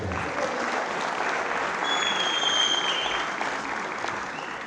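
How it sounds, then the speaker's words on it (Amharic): Audience applause at a film premiere, loud and steady, with continuous clapping from a sizeable crowd filling the whole stretch without pause. "ጭብጨባ ድጋፍ ያስፈልጋል።"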